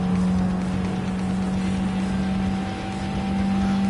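Race car engines in Gran Turismo 7 played on PSVR2, a steady loud engine drone holding one pitch throughout, with no talk over it.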